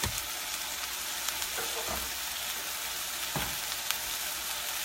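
Meat sizzles and crackles steadily in a frying pan, with a few soft scraping stirs along the way.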